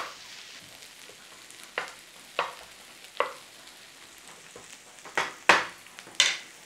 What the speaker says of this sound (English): we're only cooking potatoes and onions